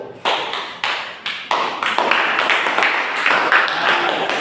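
Classroom of students applauding a group, starting with a few scattered claps that quickly build into dense, steady clapping from many hands, close and loud.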